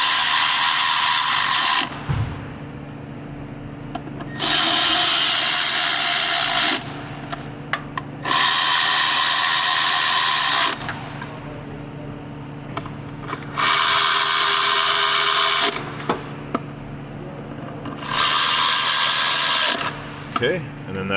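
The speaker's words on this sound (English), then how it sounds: "Grab my little ratchet, and I'm going to tighten down these 5 bolts." Ratchet tightening five bolts on a Honda Odyssey timing cover: repeated bursts of loud, close, rapid clicking, each lasting two to three seconds, separated by short pauses.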